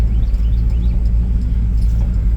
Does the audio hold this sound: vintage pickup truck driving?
yes